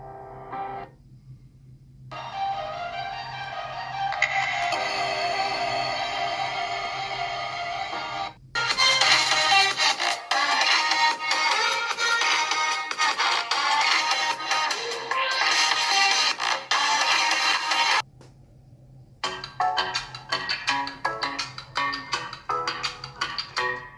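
Music playing from a Redmi Note 6 Pro phone's small, tinny speaker, with shifting sections and brief drops to silence between passages.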